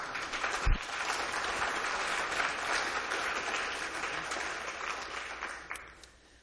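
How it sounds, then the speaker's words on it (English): An audience at a morning conference session breaks into sustained applause, a dense wash of clapping that holds steady for several seconds, then tapers off near the end. "So please give yourselves a big round of applause."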